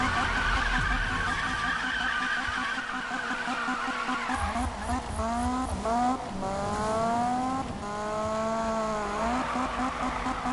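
A car drifting on stretch tires in the Need for Speed racing game: a continuous high engine whine with repeated rising pitch sweeps and tire squeal, loud throughout.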